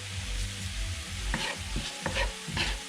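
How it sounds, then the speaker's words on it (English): Allspice and other spices sauté in a hot pan, with a steady sizzle underneath and several scraping strokes of a utensil stirring them, close and fairly quiet, with no talking. "we're going to add the spices and saute those"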